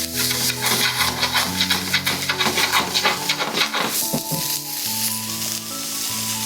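Chopped carrots hit a hot frying pan during a miso noodle and vegetable stir-fry, raising a loud close sizzle with scraping and stirring clatter, then a calmer frying hiss.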